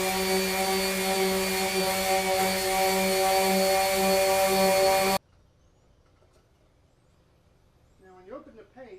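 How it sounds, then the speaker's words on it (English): A loud, steady buzzing whine of a power sander on a wooden door runs continuously, then cuts off abruptly, leaving near silence with a brief faint scrape at the end. "We're going to sand the whole door."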